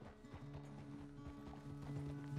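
Horse hooves clip-clop in a steady walking rhythm in the Red Dead Redemption 2 video game, fairly faint and close, with a soft mechanical hum beneath.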